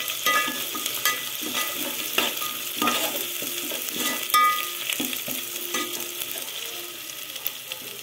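Tomato paste being stirred into fish biryani masala frying in a pot, a continuous soft sizzle with intermittent scraping and clinking strokes of the spoon throughout.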